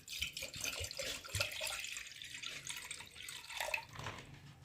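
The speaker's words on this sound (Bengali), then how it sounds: "তো প্রেসারে আগে আমি জল দিয়ে নেব।" Water runs and splashes into a pressure cooker in a home kitchen before lentils are added, a steady faint trickle with a few drips and no talk.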